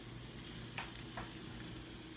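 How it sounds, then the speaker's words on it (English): Chicken for chicken Francese sears in a hot pan, giving off a soft, continuous sizzle with a couple of brief crackling pops near the middle. "this chicken is sizzling, rocking and rolling"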